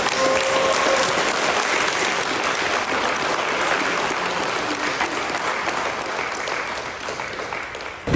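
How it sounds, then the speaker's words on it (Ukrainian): A large audience at a sports competition claps steadily and loudly for a team for several seconds, a dense wash of applause that slowly fades toward the end. "аплодуємо команді"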